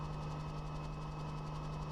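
Sioux helicopter engine running steadily in flight, a continuous close drone with a strong low hum and a constant tonal whine, with no pauses or changes across the clip.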